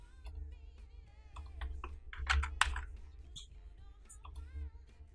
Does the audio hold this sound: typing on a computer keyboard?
yes